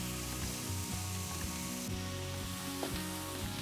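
Fajitas sizzle steadily in a hot pan, a constant crackling hiss with no one speaking.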